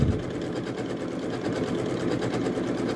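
A Janome sewing machine stitches continuously, giving a steady rapid mechanical whir with fine rhythmic needle pulses, close and moderately loud, with no talking.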